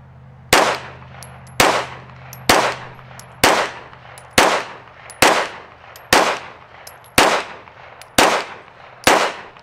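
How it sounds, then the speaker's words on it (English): A handgun with a red dot sight fires on an outdoor shooting range, ten loud, sharp, close shots spaced about a second apart in a steady rhythm, each followed by a brief decay and no talk. "We're going to shoot a group."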